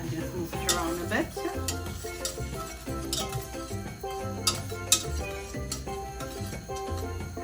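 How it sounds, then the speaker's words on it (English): Butter is pushed around a hot pan with a utensil, giving soft clinks and scrapes over a faint sizzle, close and fairly quiet. "now I'm going to throw in my butter. And just move it around a bit."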